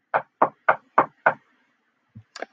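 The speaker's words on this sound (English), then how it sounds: "My first knock is so soft that Mom has to knock again." Knuckles rap on a house's front door: five even, crisp knocks close up, then a pause and two more quieter, uneven taps.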